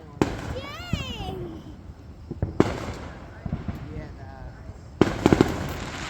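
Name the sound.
fireworks going off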